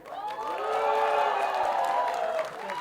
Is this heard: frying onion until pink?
no